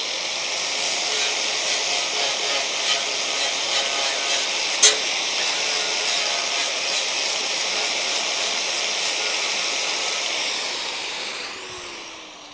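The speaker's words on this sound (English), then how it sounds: "I'm gonna plug in the angle grinder with the flap disc real quick" An angle grinder fitted with a flap disc runs steadily against a car's steel frame rail, a continuous high whining hiss that holds for several seconds and fades near the end.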